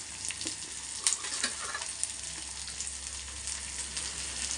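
Onions fry with a little salt in a pan, a continuous dense sizzle up close with small crackles and a few brief stirring scrapes and clicks, no voices.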